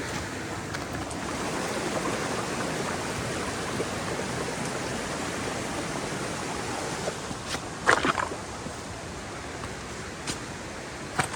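A river flows steadily nearby, a broad continuous rushing wash with a few brief knocks near the end.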